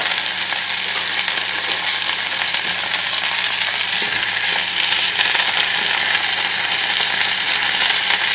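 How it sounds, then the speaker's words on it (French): Sausages brown in a hot pan with a loud, continuous sizzle and crackle, punctuated now and then by a faint scrape or tap as they are turned. "Là, je les fais juste revenir un tout petit peu"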